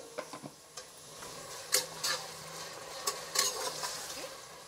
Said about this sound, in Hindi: सबसे पहले हम प्याज को गोल्डन फ्राई कर लेते हैं